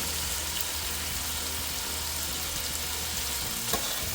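Shrimp dropped into a pot of New Orleans jambalaya sizzle steadily in a dense, even hiss, with a brief louder clatter near the end.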